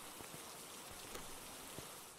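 Rain in the ghost-hunting video game Phasmophobia, a steady soft hiss of falling rain with occasional faint drop ticks, quiet and unbroken.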